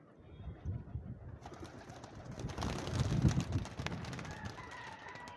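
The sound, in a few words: pigeons cooing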